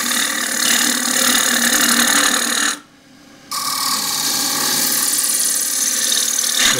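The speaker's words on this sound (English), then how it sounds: "I like to go around kind of two-thirds of the way with the gouge" A roughed bowl remounted on a wood lathe is cut with a gouge, giving a continuous loud rasping, whirring cut that breaks off for under a second of near silence before resuming steadily.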